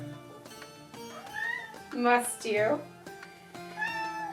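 A house cat meows several times at close range, with short rising and falling cries and one longer, louder yowl in the middle, while a person briefly speaks.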